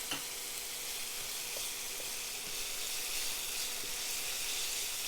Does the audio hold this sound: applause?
no